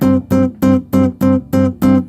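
Seven short, evenly spaced plucked notes on a Chapman Stick, each cut off sharply with clear silence between them in a crisp staccato rhythm.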